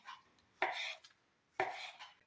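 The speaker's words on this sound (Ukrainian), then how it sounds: "колбасу я нарізаю мілким кубиком" Two crisp knife strokes cut sausage into small cubes on a cutting board, spaced about a second apart, close up and quiet.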